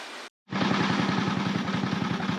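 A Super Bronc mini bike engine cuts out briefly, then fires up and runs loud and close with a fast, even, throbbing putter that holds steady.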